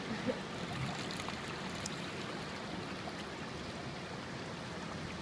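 Tide water flows into a rock tide pool at Dike Rock as a steady, fairly faint rushing and trickling wash that runs unbroken from start to finish, with no voices.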